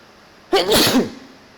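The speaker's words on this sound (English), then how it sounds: "That's violent sneezing." A single sharp, forceful sneeze, close and loud, with a brief breathy intake leading into an explosive burst that fades quickly.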